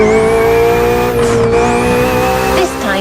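BMW Z roadster engine in The Crew Motorfest, a loud sustained engine note with tire squeal and a sweeping pass partway through, easing off near the end.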